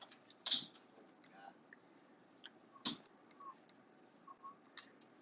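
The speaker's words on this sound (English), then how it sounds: "I'll type in the next one." Keys tapped on a calculator or computer while working a quadratics problem, sparse faint clicks spaced irregularly over a quiet room.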